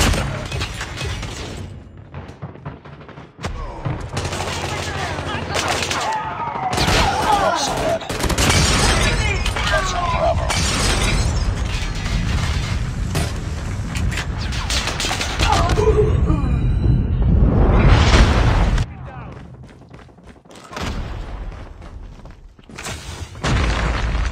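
Airstrike explosions in Call of Duty Mobile, a 10 vs. 10 match, rolling booms and crackling blasts that swell and fade across the stretch, with brief voice callouts amid the battle din.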